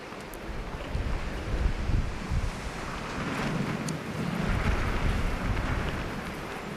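Gusty wind buffets the microphone at the US Open tennis court during an evening quarterfinal, a steady broad roar that swells and eases with no talk heard.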